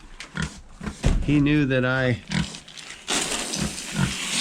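Pig grunting during evening farm chores, a pig with a rupture on its belly; a short run of harmonic grunts rises in the middle, close by, with someone talking before and after it.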